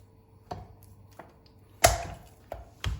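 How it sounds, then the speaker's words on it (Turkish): Knife dicing chicken breast into cubes on a cutting board at home, about six sharp separate taps at an uneven pace, close and clear with no talk over them. "Tavuk göğsümü Şöyle hemen küp küp doğruyorum."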